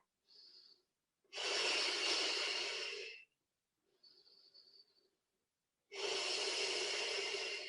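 Slow, deep breathing during a relaxing Pilates stretch, with long airy inhales and exhales, faint short intakes between them, close and clear with no talk.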